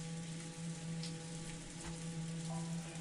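Steady rain falls in the visual novel game Umineko: When They Cry, a continuous even patter with a constant low hum beneath it, no voices present.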